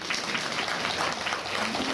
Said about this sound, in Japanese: みんなで彼女に拍手を送ろうぜ。